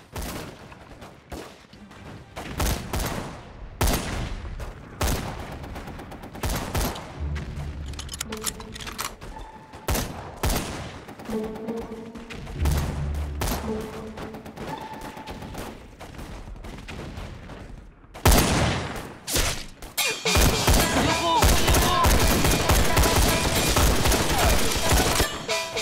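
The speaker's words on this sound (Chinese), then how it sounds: "开完枪，大伙一起开枪。" Repeated bursts of rifle gunfire ring out in a village, sharp loud shots fired in volleys and quick clusters, with some low rumbling between them.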